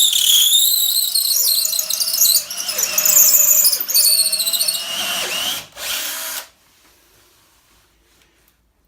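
A power drill bores a larger hole through ceramic tile, whining and squealing loudly and steadily for about six seconds with a few dips in pitch, then cutting off to near silence.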